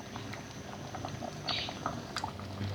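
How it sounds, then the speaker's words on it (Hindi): Apricots simmering in sugar syrup for khubani ka meetha, a soft steady bubbling with small irregular pops and plops close by, quiet and continuous with no talking. "किस तरह से पकना जब शुरू हो जाए, इसमें बबल्स आना शुरू हो जाए"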